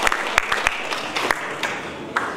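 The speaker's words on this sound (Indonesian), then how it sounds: "Tepuk tangan juga buat kita." Applause from an audience at a university professorship inauguration ceremony: dense crowd clapping heard alone with a few sharper, louder individual claps standing out over the steady wash.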